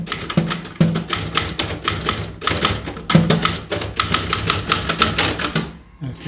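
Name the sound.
typing on a manual typewriter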